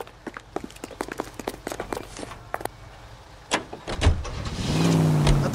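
A car in the 1940s Los Angeles crime game L.A. Noire, starting with quick footsteps and door thumps, then an engine rising into a loud, close, steady drone as the vehicle pulls away.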